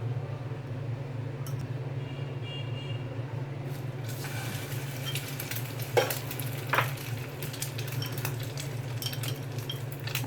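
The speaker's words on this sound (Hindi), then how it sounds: "इसमें शामी कबाब फ्राई करेंगे सबसे पहले।" Shami kebabs fry in a little oil in a pan, a steady close sizzle under a low hum, with a couple of sharp spatula knocks partway through.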